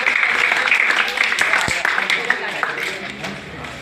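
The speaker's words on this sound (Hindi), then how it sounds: "वेरी गुड सर, ताली बजा दीजिए।" A room of listeners at a spiritual talk breaks into applause, a busy clatter of clapping that swells early and then thins out gradually.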